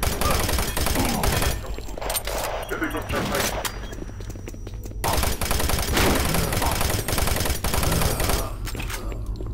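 Shotgun blasts and other gunfire from the video game Doom 3 come in loud, dense bursts. They are broken by short lulls and mixed with other game noise.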